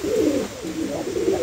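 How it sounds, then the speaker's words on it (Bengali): A young adult female pigeon at a pigeon dealer's gives soft, low, rolling coos close by, pausing briefly midway before cooing again. "একদম নতুন নিউ এডাল কবুতর"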